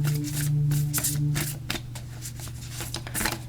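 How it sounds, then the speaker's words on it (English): A Tao Oracle card deck being shuffled by hand, a steady run of crisp riffling flutters and soft slaps, close and fairly loud, with a low hum underneath and no talk. "start out with our Tao Oracle deck here"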